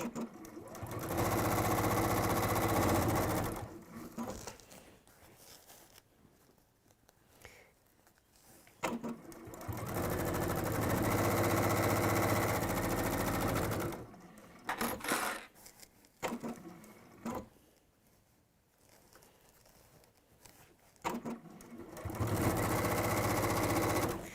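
A sewing machine stitching in bursts of loud, steady whirring, with a long run at the start, another in the middle and shorter runs later, separated by quiet pauses.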